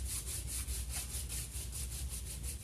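Rhythmic back-and-forth rasping as 80 grit sandpaper strips paint from a wooden coffee table, about a dozen quick even strokes, close and fairly loud with no voices.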